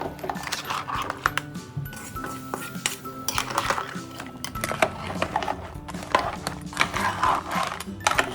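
A pan of mud crab curry is stirred with a utensil, with irregular metallic scrapes and clinks against the pan over a soft background, close and moderately quiet.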